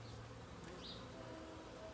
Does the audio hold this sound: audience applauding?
no